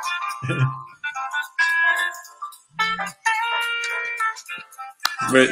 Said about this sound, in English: My phone is going crazy.